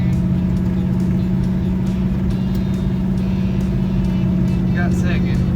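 A 1966 Pontiac Tempest with a freshly installed TH350 automatic transmission drives down the road, its steady engine drone loud and close from inside the car as it pulls through the gears, with people talking over it.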